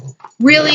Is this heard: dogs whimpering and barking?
yes